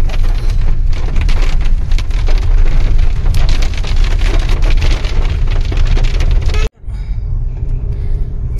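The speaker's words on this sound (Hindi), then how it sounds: "बारिश अभी भी नहीं रुकी है" Heavy rain pounds steadily on a vehicle during a drive near a tunnel in Chamba, a loud dense hiss that cuts out abruptly near the end before resuming more quietly.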